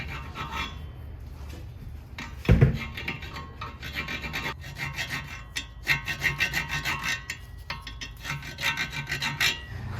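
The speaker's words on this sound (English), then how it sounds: "I should be able to clean off all the little burrs." A metal file rasps burrs off a Honda Civic rear wheel stud in fast, close, repeated back-and-forth strokes, loud and continuous, broken by one sharp knock, with no talking.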